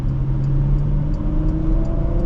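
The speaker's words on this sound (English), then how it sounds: "You can definitely hear the Audi engine sound" Porsche Macan GTS with PDK transmission on the road, its engine a steady loud drone with a low hum that climbs slightly in pitch, heard from inside the cabin.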